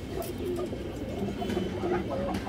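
Old-line high flyer pigeons coo close by in a low, rolling burble that runs continuously with soft overlapping calls and a faint background hiss.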